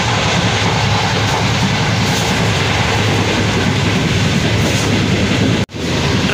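The 7UP Tezgam passenger train running on the rails, heard as a loud, constant roar and rattle of the carriages, steady throughout with a brief sharp dropout near the end.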